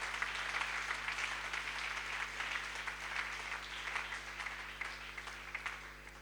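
A church congregation applauds together in a continuous, moderately distant wash of clapping that holds steady for several seconds.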